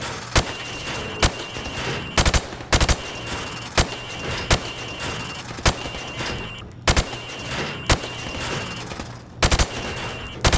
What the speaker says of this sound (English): I want you to shoot the targets through the wood